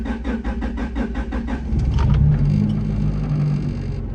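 A Honda Integra GSR engine with newly replaced injectors cranks with a rhythmic starter churn for about two seconds, then catches and settles into a loud, steady idle rumble close by.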